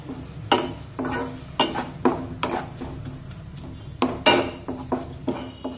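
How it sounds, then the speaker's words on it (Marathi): Ginger-garlic paste being sautéed with onions in a pan for dal kanda, heard as a spoon scraping and stirring in a string of distinct strokes, roughly one every half second to second, over a low steady sizzle, close up with no talking. "आलं लसूण पेस्ट सुद्धा छानपैकी परतून घेऊया"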